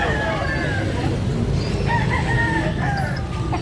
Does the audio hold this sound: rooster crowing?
yes